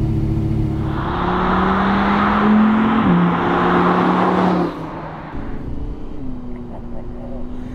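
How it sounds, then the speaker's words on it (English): Audi R8 V10 Spyder V10 engine under way on the road, a steady loud drone that climbs in pitch, then eases off into lighter wind and road noise. "all you can hear through that hole is that glorious V10"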